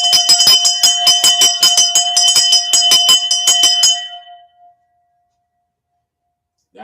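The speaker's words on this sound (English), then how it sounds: "Let's ring that bell." A bell is rung in rapid repeated strikes for about four seconds, each ding bright and ringing, then the tone sustains and fades into silence; part of a ritual to drive a demon away.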